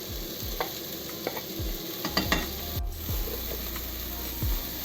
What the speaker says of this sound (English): Fry the onions and the garlic.